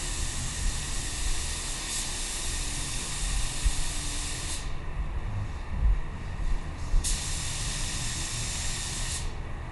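A paint spray gun hisses steadily while laying sealer onto a car panel, a close continuous rush of air that cuts off twice briefly before resuming, no voices.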